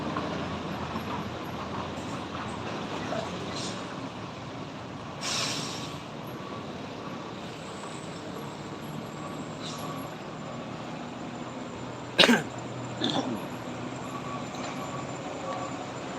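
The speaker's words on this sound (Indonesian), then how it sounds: "Bus pariwisata medium." A medium tour bus carrying a tour group climbs the Sitinjau Lauik mountain road near Padang, giving a steady engine rumble, with two brief sharp hissing bursts near the end.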